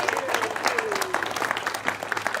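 Applause from a crowd at a congressional campaign announcement, a moderate sustained patter of clapping with a faint tonal whine sliding underneath.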